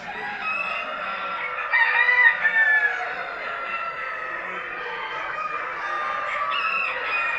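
Ornamental chickens cluck and a rooster crows at a poultry show in Afyon, Turkey, layered calls carrying on steadily, with one louder crow rising out of the flock.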